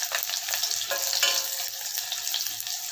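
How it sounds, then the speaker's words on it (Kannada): Crushed unpeeled garlic hits hot oil with popped mustard seeds in a pan for rasam, giving a steady, close crackling sizzle with bright spitting bursts throughout, no voices. "ಈಗ ಸಾಸಿವೆ ಚಿಡ್ದಿದೆ, ನಾವಿವಾಗ ಬೆಳ್ಳುಳ್ಳಿ ಹಾಕ್ಕೊಳ್ಳೋಣ."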